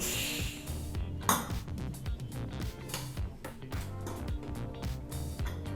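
A pressure cooker holding broad bean sambar has its lid opened and handled, giving a dense run of close metallic clanks and scrapes at steady moderate volume.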